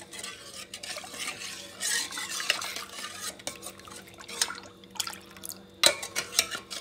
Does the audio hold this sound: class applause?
no